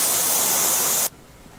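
A KaasenL cryo device sprays cold air during a cryosculpting treatment, giving a steady, close hiss for about a second before cutting off abruptly.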